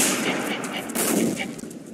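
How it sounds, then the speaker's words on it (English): A loud grenade blast goes off in the first-person shooter Line of Sight, a dense burst of crackling explosive noise amid rapid gunfire. "That was a grenade."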